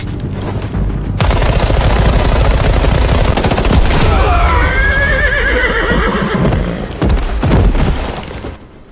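Gunfire crackles alongside horses whinnying and neighing during a cavalry charge in an animated drama about a mechanized army in the Song dynasty, loud and dense, with shots and horse cries overlapping throughout before easing near the end.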